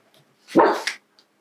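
A dog outdoors gives one clear bark, a brief rough woof with a small second catch at its end, standing alone against a quiet indoor background.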